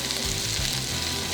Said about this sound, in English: That's sizzle though. Sounds good.